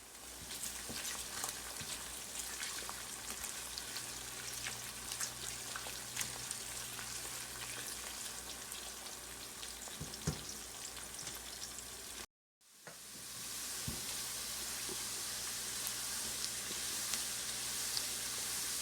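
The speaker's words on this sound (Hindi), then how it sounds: "आधा कप ऑयल में हमने आधी प्याज डाली है। अब हम इसको सौते कर लेंगे।" Onion sautés in half a cup of oil with a steady, close sizzle and crackle that is cut off by a brief silence, then resumes more evenly.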